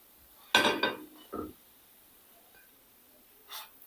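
Fried egg shami kebabs, golden on both sides, being lifted onto a plate: a sharp clink of utensil against the dish followed by a few lighter taps close by, then a faint later clatter, with a short breath or murmur in between.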